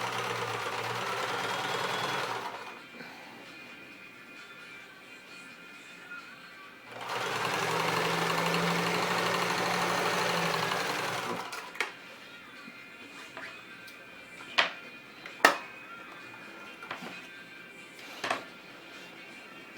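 A sewing machine topstitches a pouf cover in two distinct bursts of rapid, whirring stitching, close and clear, separated by quiet pauses with faint handling clicks and taps.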